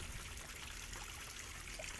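Soft, steady trickling water runs continuously in a backyard DIY goldfish pond, faint and uninterrupted with no voices.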